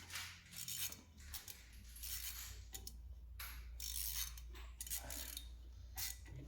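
Hand ratchet clicking while tightening a bolt on the front brake disc of an Audi A4 B8, bursts of rapid close metallic ticks with short pauses, no voice.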